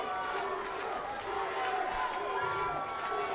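Crowd cheers at a PSAL A-Division high school baseball championship game, a dense, sustained roar of many voices with whistles and shouts rising and falling throughout.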